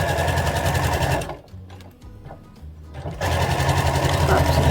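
A sewing machine stitches a curved seam on bear overall pants, running fast and close. It pauses briefly in the middle for a softer, irregular stretch, then runs again at a steady buzz with no talking.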